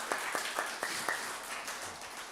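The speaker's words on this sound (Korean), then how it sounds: "우리 박수로 좀 환영하도록 하겠습니다" A church congregation claps to welcome visiting members at a Sunday service, a scattered, fairly quiet round of handclaps with a few distinct sharper claps early on that soon thin into a softer patter.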